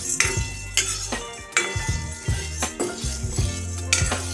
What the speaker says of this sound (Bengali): এই ডালটা একটু শুকনো খোলায় নেড়ে নেব।